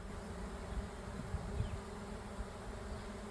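A swarm of honey bees fills the air with a continuous, dense buzzing drone, steady and enveloping from close by with no voices.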